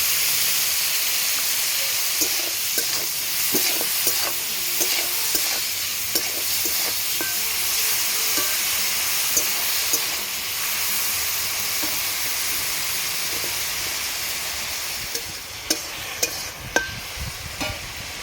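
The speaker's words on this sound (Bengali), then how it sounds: "এটা ভাজা হতে থাকুক।" Cauliflower frying in a pan with turmeric and salt, a steady broadband sizzle with intermittent stirring scrapes and clicks throughout, close and fairly loud, with no talking.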